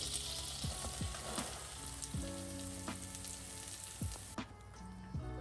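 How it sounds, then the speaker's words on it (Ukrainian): Baguette frying in caramelized, melted butter in a pan, a steady close sizzle with bubbling crackle and a few scraping and clinking sounds, no talking. "як тільки масло наше карамелізувалось і підтопилось, беремо наш багет і кладемо сюди"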